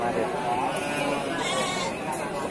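At Pasar Wage Bumiayu, a livestock market, pregnant ewes and their lambs bleat amid a busy crowd, the calls partly buried under steady chatter and nearby talking.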